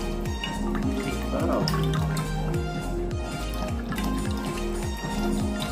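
Water drains out of a freshly cut tender coconut in a steady dripping, trickling stream, with someone talking over it.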